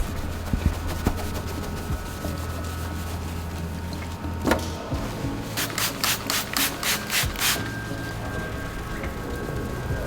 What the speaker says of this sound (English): I used a synthetic clay towel together with a lubricant to physically detach them and then rinse off those particles.